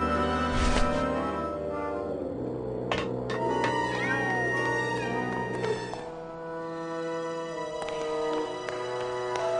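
A racing cat in the video game Grim Fandango Remastered meows a few times amid a busy game soundtrack with music and crowd ambience.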